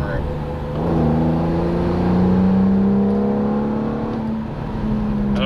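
A Pontiac G8 with low coolant and misfire trouble accelerates hard with the pedal floored, its engine note rising steadily and loud from inside the cabin, then easing off near the end.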